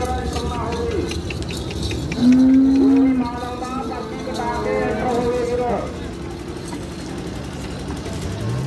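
At the Dhanaula livestock market in Punjab, a Murrah buffalo gives one loud, low, drawn-out moo midway through. Steady crowd chatter and a faint engine hum continue underneath.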